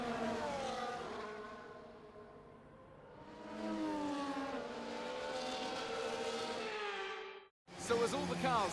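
Formula 1 cars on the formation lap in F1 24, high engine whines rising and falling as cars pass near and fade, ending with an abrupt cut and a sharp burst, voices talking over parts.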